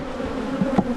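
Honeybees buzz steadily around a green backyard hive, a close, continuous hum with a couple of louder passes as bees fly near.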